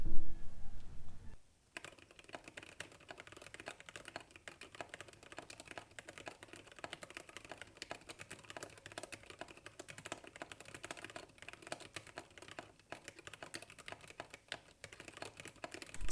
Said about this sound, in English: So this is my finished planck build and let's move on to a sound test.